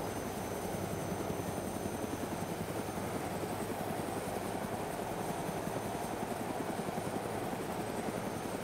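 A UH-1H Huey helicopter in a video game flies with a steady, continuous rotor and engine drone that stays loud and unchanging throughout, with no talking.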